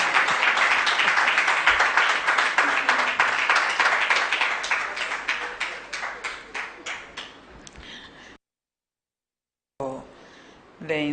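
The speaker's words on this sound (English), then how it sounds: "Then clap for me." An audience claps after a presentation at an agency report event, with dense applause that gradually thins into scattered individual claps before falling silent, followed by a brief return of sound.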